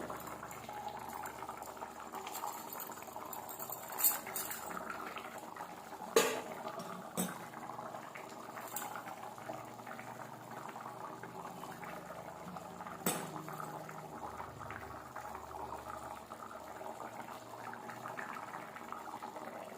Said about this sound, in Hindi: देखो तो पानी ऑलरेडी फुटी आइलानी।